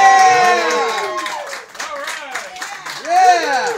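An audience at a hypnotism party show applauds and cheers, clapping and whoops mixed with a loud, strongly pitched voice shouting over the crowd.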